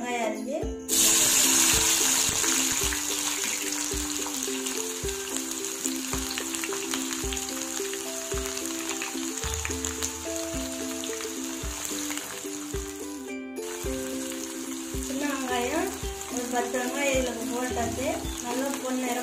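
Small onions drop into hot oil with popped mustard seeds for a Tamil egg curry, crackling and sizzling steadily while someone talks over the frying, with occasional scrapes of a utensil.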